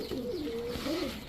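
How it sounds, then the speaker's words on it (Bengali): A male silver Pankhi pigeon, a large bird with an all-black tail, coos in undulating rolling phrases, close and clear over steady background noise. "এটা হচ্ছে সিলভার পাঙ্খি একটা নর কবুতর"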